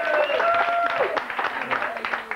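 A television studio audience claps and cheers to welcome a singer, with a loud burst that fades into lighter scattered clapping and crowd noise.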